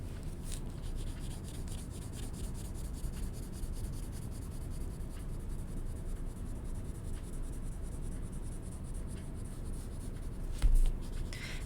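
Pencil scratching on paper while drawing a toucan's folded wing, a continuous close, soft scraping with quick rhythmic strokes and a small tap near the end, no talk.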